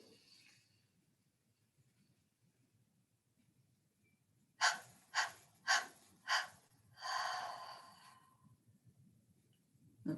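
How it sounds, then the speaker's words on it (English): A person breathing in deeply during a guided healing meditation: four sharp, close inhalations in a row, then one longer drawn-out breath, in an otherwise quiet room. "So breathe it in deeply."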